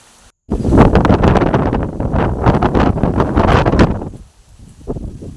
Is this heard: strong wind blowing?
yes